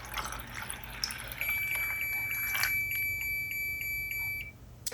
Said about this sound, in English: when it's full up of water, it beeps to let you know